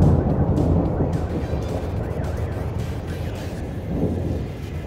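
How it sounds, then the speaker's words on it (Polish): Thunder during a storm, a loud rolling rumble that swells at the start, keeps grumbling in the low end and surges again near the end, with no voices. "jeden grzmot udało mi się nakręcić"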